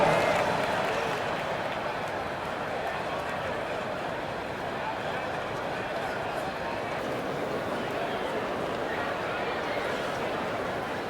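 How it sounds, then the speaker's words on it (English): Broad basketball arena crowd applause and cheering in the video game NBA 2K25 fills the scene, loud at first then settling into a steady roar with a voice faintly mixed in. "Give yourself a round of applause."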